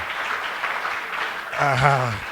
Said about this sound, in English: See the way you're clapping now?